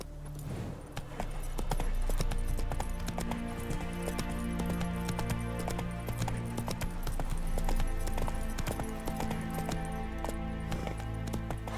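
Roach the horse galloping in Witcher 3: Blood and Wine, a dense, continuous drumming of hooves, loud and close, with game ambience underneath and no talking.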